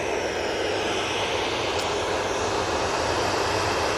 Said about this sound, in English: 737-800 now lined up, ready to go.